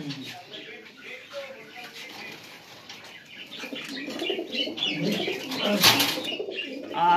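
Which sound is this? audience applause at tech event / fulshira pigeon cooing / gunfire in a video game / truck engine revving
fulshira pigeon cooing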